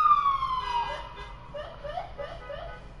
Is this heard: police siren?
yes